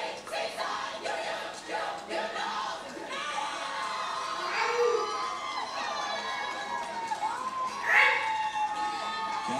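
A crowd cheers during a trophy presentation at the 2015 Big West track and field championships, as a coach hands over the trophy to a women's relay team; excited shouts and squeals rise and swell near and loud, with voices mixed through it.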